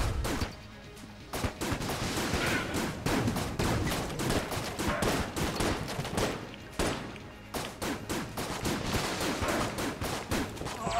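Constant rapid gunfire from the bullet-hell dungeon game Enter the Gungeon, a loud, dense stream of shots running almost without pause, with only brief gaps.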